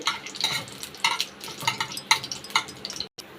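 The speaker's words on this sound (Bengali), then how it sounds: "এবার একটু তেলে শুকনো লঙ্কা তেজপাতাটা ভাজা ভাজা করে নিতে হবে" Close, rhythmic stirring and scraping in a pan as dry red chillies and bay leaves fry with a light sizzle of oil, ending in a brief cut of silence.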